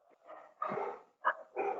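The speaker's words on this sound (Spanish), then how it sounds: "Perritos." Small dogs barking in short, sharp bursts: a few yaps, a pause, then two more loud barks close by, with no talking over them.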